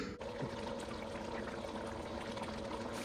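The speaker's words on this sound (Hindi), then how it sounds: "अब इसमें आधा लीटर पानी ऐड कर देंगे और इसको 5 से 7 मिनट के लिए दरमियानी आंच पे कुक कर लेंगे।" Half a litre of water pours into a pot of beef kofta curry, a steady close splashing trickle that runs evenly throughout without any voices.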